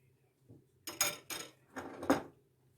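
A spoon spreads filling across thin baklava pastry sheets (yufka), giving four short scraping and clinking strokes close up, with no talking.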